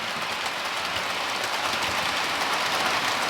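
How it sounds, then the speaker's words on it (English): A model train runs in reverse at half speed through sidings on a layout with Hunts couplings, giving a steady, continuous rolling hiss and rumble with faint clatter, close and unbroken throughout. "there's the train coming back in reverse"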